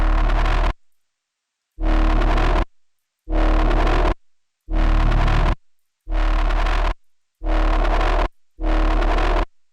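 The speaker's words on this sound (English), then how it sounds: "we're going to put this before the EQ so that we can EQ the sound of the distortion." A distorted UK bass synth in Ableton Live plays seven loud, gritty sustained notes in a steady stop-start pattern, each a held buzzing roar with brief silences between.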